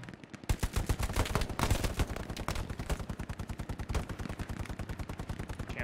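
Machine gun fire rattles in a video game skirmish: a loud, fast, continuous stream of shots that barely pauses across several seconds, with no talk over it.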